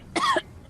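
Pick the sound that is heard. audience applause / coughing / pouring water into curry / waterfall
coughing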